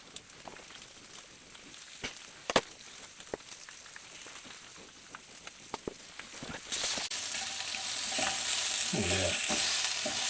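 Black pudding frying in bacon fat, with a steady sizzle that swells louder partway through, broken by scattered clicks and stirring knocks; a voice speaks briefly.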